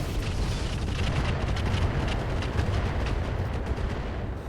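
Mech weapons firing in the video game RogueTech, a rumbling, continuous roar of heavy blasts and booms, dense and loud throughout with a low, thundering body.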